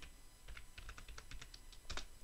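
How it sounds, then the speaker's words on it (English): Quick, light keystrokes on a computer keyboard, a soft irregular patter of clicks heard up close in a quiet room, ending in a couple of firmer taps. "I'm going to type on my keyboard"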